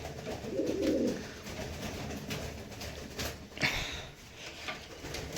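Pigeons in a loft give soft, low cooing calls, one distinct burst near the start, with light shuffling and rustling around them at close range.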